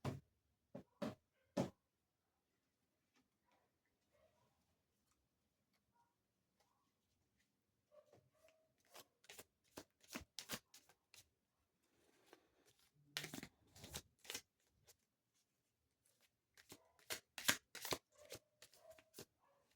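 Tarot cards being shuffled and drawn in a quiet room, with scattered crisp flicks and snaps of card stock coming in short bursts and clusters, close and fairly soft, with no talking.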